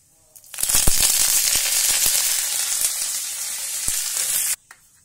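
Curry leaves hit hot oil in a pan for sambar dal, erupting into a loud, crackling sizzle with scattered pops that holds steady for about four seconds and then stops abruptly, with no talking.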